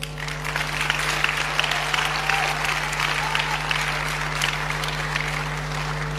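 A church audience claps in sustained, dense applause that holds steady throughout with no break.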